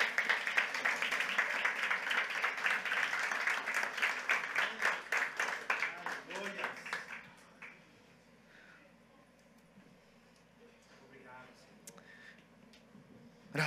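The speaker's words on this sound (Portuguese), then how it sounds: "se coloque em pé e dê um aplauso ao Senhor." Church congregation applauding loudly, a dense wash of claps for about seven seconds that then fades abruptly into quiet room tone with scattered faint noises.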